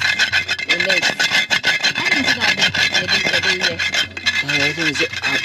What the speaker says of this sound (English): so when it's new, you have to grind some salt in it.